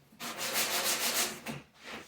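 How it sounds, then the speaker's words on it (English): Hand sanding with 150 grit sandpaper along the edge of a wooden picture frame gives close, scratchy back-and-forth rubbing strokes, about three quick passes in a short burst. "150 grit, clean up this edge"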